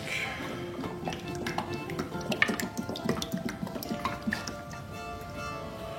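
Water pours into the reservoir of a diamond-wheel glass grinder used for stained glass, a close trickling and splashing with small drips and clicks over a low background, while a voice speaks faintly.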